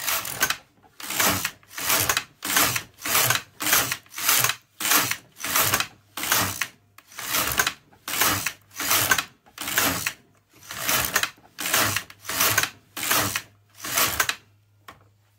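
An LK150 knitting machine carriage slides back and forth across the bed, knitting about twenty rows of a small toy's leg on ten stitches; loud, regular whooshing-clacking passes, each about half a second, with no talk.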